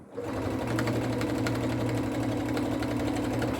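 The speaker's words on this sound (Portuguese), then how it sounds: "já faço a costurinha do cartão, para separação do cartão" A sewing machine runs a line of stitching across a folded paper card, a close, loud, continuous motor whir with fast regular needle clatter and no talk over it.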